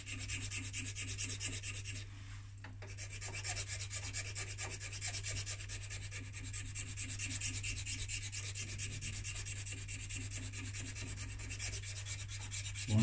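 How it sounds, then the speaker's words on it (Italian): A hand file rasps steadily along a pen stem at close range, a continuous rubbing sound with only a brief pause, under a low background hum. "uso la lima"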